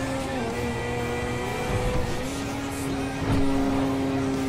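A car engine in the GTA V video game, running with a realistic driving mod, holds a steady tonal drone and then revs up, rising slightly in pitch and volume toward the end.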